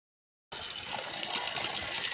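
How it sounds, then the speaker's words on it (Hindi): Water pours continuously from a mountain spring, a close, steady gushing rush that begins abruptly after a short silence and carries on evenly with no talk. "पानी का स्रोत।"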